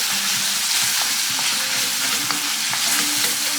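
Chicken stir-frying with dried red chili for a keto Kung Pao over medium-high heat, a steady loud sizzle with scraping stir strokes and light clatters running throughout, no voices.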